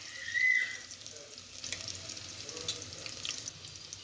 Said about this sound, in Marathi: सूप बनवण्यासाठी कांदा जास्त परतवण्याची गरज नाही नॉर्मल हलका गुलाबी रंग येऊपर्यंत आपल्याला कांदा छान परतून घ्यायचा आहे